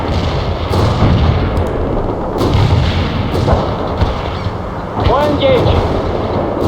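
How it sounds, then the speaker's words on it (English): Artillery barrage in the video game World in Conflict, a run of deep thumps and booming impacts over layered battlefield noise, loud and close, with game voices speaking over it. "The barrage didn't kill any enemies."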